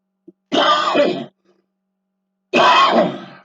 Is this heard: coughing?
yes